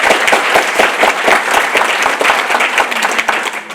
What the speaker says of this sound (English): I want to give Rena a round of applause.